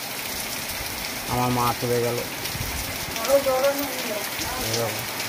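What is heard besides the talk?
heavy rain falling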